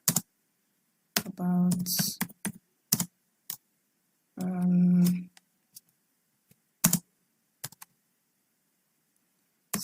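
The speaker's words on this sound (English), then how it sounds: "let's just type something here" Keystrokes on a computer keyboard, a few scattered clicks spaced apart, with someone speaking briefly in between.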